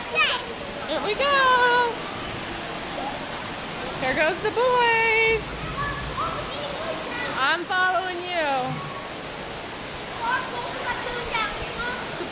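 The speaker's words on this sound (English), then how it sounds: "Sissy and I are about to go down the water slide" Water rushes steadily down an indoor water park slide, a continuous splashing wash with loud excited children's shouts and squeals over it and people talking.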